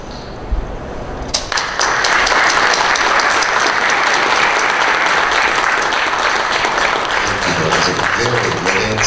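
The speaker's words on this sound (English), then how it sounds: "Another big round of applause for Brianna" Loud, sustained crowd applause for a contestant at the Miss Armada pageant, swelling after a brief quiet start into dense clapping from a large audience that carries on steadily to the end.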